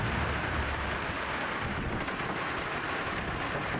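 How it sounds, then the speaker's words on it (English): A fierce hailstorm with powerful wind gusts makes a dense, continuous roar of pelting and rushing air, loud and unbroken throughout. "Even more terrifying is when hailstorms combine with a fierce storm, bringing along powerful gusts of wind."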